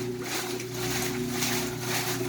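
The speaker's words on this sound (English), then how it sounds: "Turn the agitator back on." An antique wringer washing machine's agitator runs in a shallow load of water with a couple of clothing articles, giving a steady loud mechanical hum with sloshing churn throughout.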